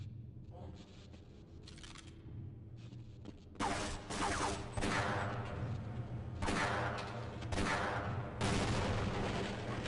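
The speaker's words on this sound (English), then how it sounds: "Oh, explosive crates." Explosive crates blowing up in Half-Life, a run of sharp loud bangs and crashing bursts after a quieter stretch of lighter gunfire, with booming tails overlapping one another.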